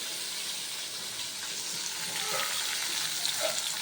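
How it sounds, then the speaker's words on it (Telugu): Onions frying in a pan for spring onion curry, a soft continuous hiss that swells slightly toward the end, with no voices. "ఉల్లిపాయలు బాగా ఫ్రై అవ్వాలండి"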